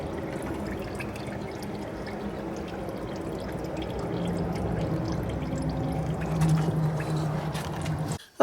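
Antifreeze mixed 50-50 in a jug pours steadily into the radiator of a Mahindra 8560 tractor, a continuous gurgling, trickling flow heard close up with no talking.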